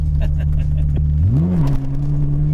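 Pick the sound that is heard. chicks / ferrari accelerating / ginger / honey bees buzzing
ferrari accelerating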